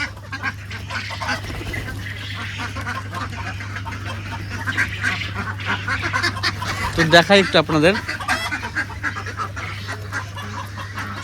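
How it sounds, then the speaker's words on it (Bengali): A flock of 63 ducks let out in the morning on a farm where ducks and chickens roam, quacking in short bursts that grow louder midway, beneath someone talking throughout. "63 পিস হাঁস রয়েছে"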